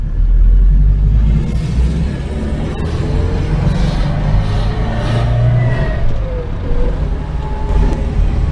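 A Volga car on a test drive after repairs gives a loud, continuous low rumble of engine and road noise as it rolls along, rising and easing slightly with light rattles and no speech.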